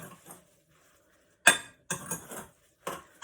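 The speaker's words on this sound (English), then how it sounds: "So I'm just going to give that a little bit of a mix in" Ground flax being stirred into a vegan mushroom burger mixture in a bowl, giving a few short, close scraping and clinking bursts of a utensil against the bowl with quiet gaps between them.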